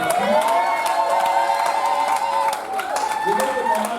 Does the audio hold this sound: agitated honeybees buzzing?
no